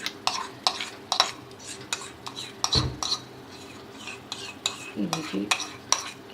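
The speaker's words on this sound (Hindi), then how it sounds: "ये दही भी इसमें चला गया।" Yogurt spooned into Sindhi biryani masala in a pot and stirred, a run of sharp spoon-on-metal clinks and scraping strokes repeating steadily at close range, with a faint sizzle underneath and brief speech.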